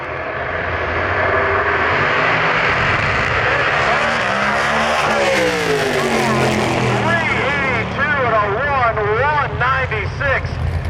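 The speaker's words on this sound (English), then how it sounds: "Sullivan, he stepped on the gas and it started spitting, popping." A drag racing car launches at a Milan Dragway heads-up series race, its engine revving loud and rough with spitting and popping, while a track announcer talks over it.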